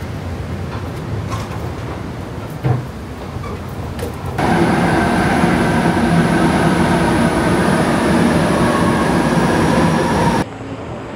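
A metro train in Manila rumbles loudly nearby, its steady roar and whine filling the space, with clattering wheels before the run settles in.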